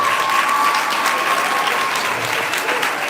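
Crowd applause at a primary school prize-giving honoring the best netball player of the year, a brisk continuous burst of many hands clapping, with faint voices mixed in.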